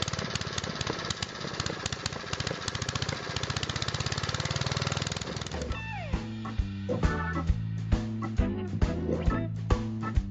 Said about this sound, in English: Check out the inner workings of this 4-stroke engine. It's amazing how fast it runs.